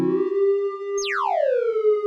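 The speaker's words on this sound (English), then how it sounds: "It's almost like a random sequence, but it's firing out little envelopes instead of pulses." A Mr. Wavey synth module fires out a steady sine tone that suddenly sweeps downward in a bright, smooth chirp before settling low, loud and clean with no talk.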